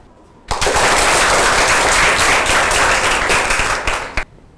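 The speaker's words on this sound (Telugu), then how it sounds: "తనను అభినందిస్తూ మనందరం చప్పట్లు కొడదాం" A classroom of students breaks into loud, dense applause for a classmate, a burst of rapid clapping that lasts about four seconds before stopping abruptly.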